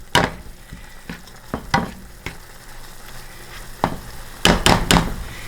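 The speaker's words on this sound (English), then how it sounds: "I'm just going to let this saute." Onions and celery sauté with sage and garlic for a keto Thanksgiving dish, giving a steady hissing sizzle broken by several sharp bursts of stirring and scraping, close and fairly loud.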